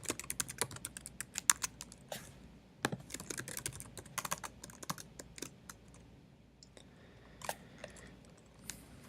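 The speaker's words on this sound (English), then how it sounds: "you'll type a usual membership interview email" Quick, uneven clicking of computer keyboard keys as someone types an email, crisp taps in bursts with short pauses, close and quiet with no one speaking.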